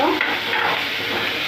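Grated carrot sautéing in a pan for a coconut carrot chutney, a steady soft sizzle and hiss with faint stirring scrapes, close and continuous for a brief moment.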